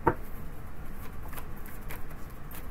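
Tarot cards being shuffled by hand: a sharp riffle burst at the start, then soft, steady card patter running throughout at low volume.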